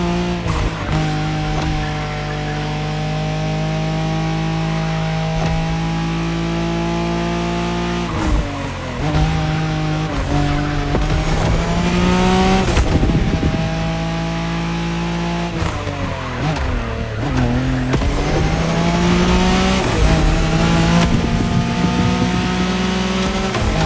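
A Nissan Skyline racing car in The Crew Motorfest, its engine loud and close as it revs through gear changes, rising and dropping in pitch, with tire squeal and skidding scattered throughout.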